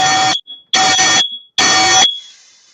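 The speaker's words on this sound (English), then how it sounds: "You got to smoke detector going off, Don." A smoke detector blares in loud, piercing electronic bursts, three long shrieks separated by short pauses, with a fading tone after the last one.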